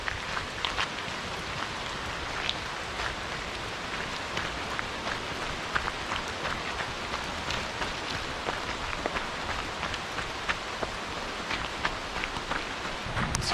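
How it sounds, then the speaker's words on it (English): Steady rain pours down outdoors during a nighttime ultramarathon run, a dense even hiss broken by frequent close drips and pattering taps, with no voices. "It's starting to rain again, pretty steady."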